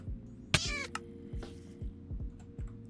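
Cat meows from cat boots in the Minecraft All The Mods 8 modpack, a single clear, fairly loud meow amid soft rhythmic ticking and thumping footstep-like game sounds.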